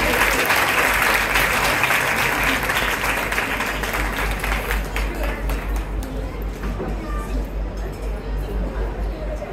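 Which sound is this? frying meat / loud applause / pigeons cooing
loud applause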